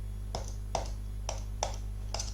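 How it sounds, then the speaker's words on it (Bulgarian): Quick clicks from a computer mouse being spammed during a Minecraft PvP match, five sharp taps spaced irregularly over a steady low hum, close and fairly quiet, with no talking. "Може би чувате мишката."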